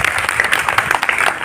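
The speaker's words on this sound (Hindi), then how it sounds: "तालियों में खैर मकदम करें जनाब प्रदीप सरस्वत" An audience at a Republic Day celebration at Jamia Urdu Aligarh applauds to welcome guest Pradeep Saraswat. Steady, dense hand clapping fills the whole short stretch at close range.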